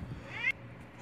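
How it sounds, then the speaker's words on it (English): A Maine Coon cat gives a single short, rising meow over quiet background hum, fairly close and moderately loud, then falls silent. "She is a Maine Coon."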